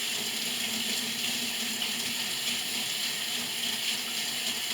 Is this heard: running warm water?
yes